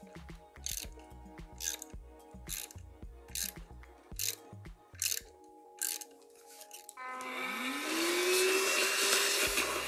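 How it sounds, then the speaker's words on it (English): A hand tap cuts an M4 thread into a drilled hole while mounting an electric scooter controller, a series of close, rhythmic ratcheting clicks and creaks, followed by a louder, sustained whirring machine noise near the end. "Now it's time for this thing to make the thread in the hole. Of course, M4 size."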